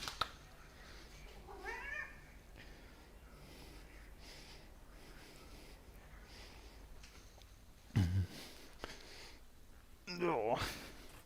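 A cat meows several times in a workshop, soft rising calls scattered across the stretch along with sniffs and snorts, and someone speaks between and over the cries.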